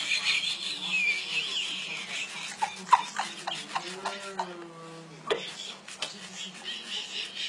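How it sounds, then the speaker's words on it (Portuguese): Close rhythmic toothbrush scrubbing on teeth, quick back-and-forth strokes repeating steadily, while people talk and chuckle nearby. "Escovando assim, vocês vão ter pra sempre um sorriso branquinho."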